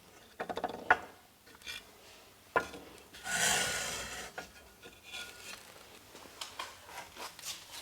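Soft rubbing and scraping as the sharp edges of a handmade ceramic plate are smoothed by hand, with intermittent light scuffs and taps and one longer, brighter swipe, close and quiet.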